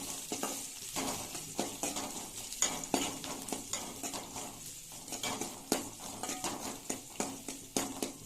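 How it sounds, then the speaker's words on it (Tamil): Sliced onions sauté in a kadai with oil, mustard seeds, chana dal and fenugreek, softly sizzling under a rhythmic series of spatula scrapes against the metal, quiet and close. "வெங்காயத்தை ஆட் பண்ணியிருக்கேன் அது கொஞ்சம் நல்லா வணங்கிக்கிட்டோம்"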